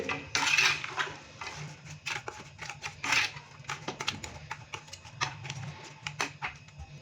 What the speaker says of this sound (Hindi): और थोड़ा सा हम इसको मिक्स कर देंगे।